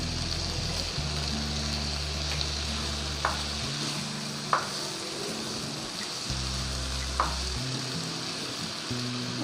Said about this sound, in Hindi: अच्छी तरह इसको मिक्स कर लूँगी मसाले को।